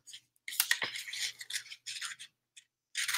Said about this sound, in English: we're going to take our scissors.